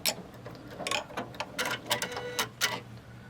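A sewing machine stitching a quilt block for a color collage quilt, heard close as bursts of rapid mechanical ticking and whirring that start and stop, with no talking.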